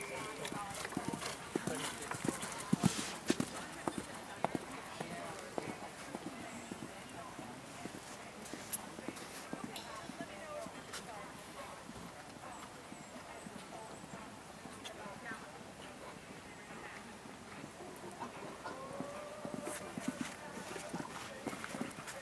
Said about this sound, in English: She'll be riding the Wild Unicorn.